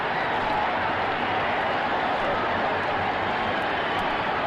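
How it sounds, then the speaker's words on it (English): A stadium crowd at a 1969 Jets vs Raiders football game roars in a dense, sustained wash of cheering that stays loud and even throughout, with no talk over it. "Listen to this crowd"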